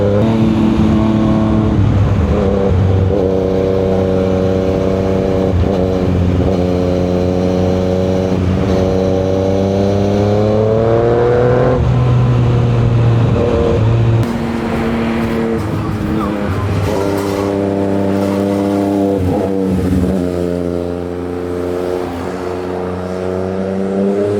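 Steady Yamaha Niken 900 three-wheeled motorcycle engine droning close by throughout, with its pitch rising and falling as the throttle changes during a ride on twisty roads.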